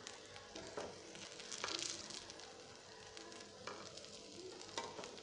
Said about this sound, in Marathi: दोन्ही बाजूने यांना खरपूस असा भाजून घेऊ. आता आपण यांना पलटून घेऊ.